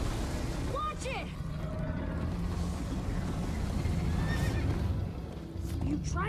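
Horse neighing in the Minecraft Story Mode video game during a chase on horseback: a couple of brief whinnies over galloping hoofbeats and background game sound, with voices talking over it.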